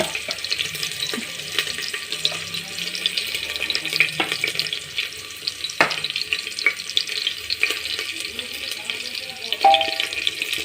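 Minced garlic pieces fry in hot oil for an Assamese lai xaak khar dish, giving a steady, close sizzle with occasional stirring clatter and scrapes, and no voices.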